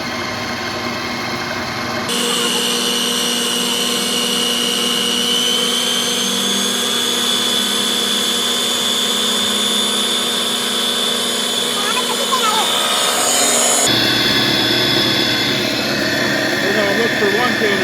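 Cummins PT fuel pump on a test stand, run up to 2100 rpm, giving a loud steady mechanical whine and drone that rises in pitch and holds, with someone speaking over parts of it.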